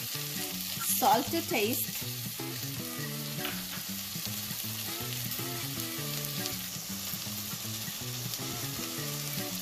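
Tomatoes sizzle steadily in a hot pan while frying for Punjabi pakoda kadhi, with a stirring clatter near the start and music playing underneath; a voice speaks briefly.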